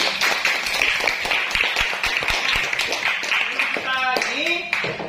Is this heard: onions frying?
no